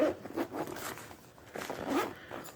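Zipper on a first aid pack being opened, several quick close rasping pulls in short bursts with small pauses between, fairly quiet and with no talking.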